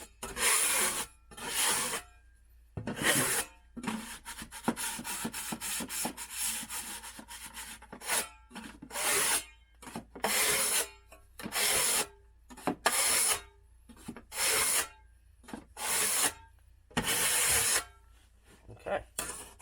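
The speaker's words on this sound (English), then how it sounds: "Scrape off anything that's in the way." Dry drywall patch compound is scraped off a wall repair with a blade, loud rasping strokes in a repeated rhythm, each pass separated by brief pauses.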